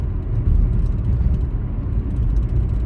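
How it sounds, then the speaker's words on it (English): A steady low rumble of road driving behind a slow-moving pickup truck, continuous engine and tire noise with no pauses. "this stupid pickup truck that's going under the speed limits"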